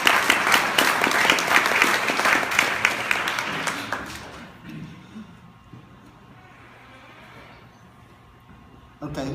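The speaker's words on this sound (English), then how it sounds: "give us a big round of applause" Crowd applause at the mayor's State of the City address in San Gabrien, loud and dense for about four seconds, then tapering to a quiet murmur before a brief swell at the end.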